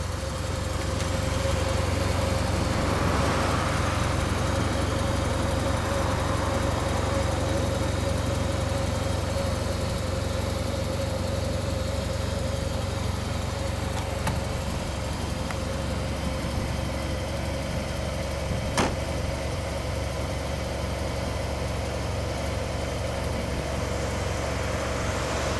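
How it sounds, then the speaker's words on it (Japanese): A 2015 Yamaha TMAX530 scooter engine idles steadily and close by, with a constant low hum and a faint whine, running alone without any talk. "サイドスタンドをやったままでもエンジンかかるんだ"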